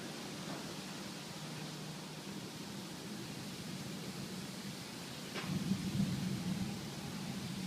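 An evening thunderstorm over Ryazan in July 2013 brings steady, hissing rain, with a low roll of thunder swelling midway before easing back into the downpour.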